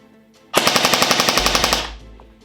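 An AGM STEN MK2 airsoft gun on its standard battery fires a single short full-auto burst of roughly a dozen rapid, evenly spaced shots, close and loud, followed by a brief mechanical tail.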